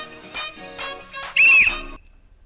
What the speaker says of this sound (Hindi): मैंने सबसे पहले विसिल बजा दी